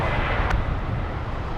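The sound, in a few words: airplane landing at Los Angeles International Airport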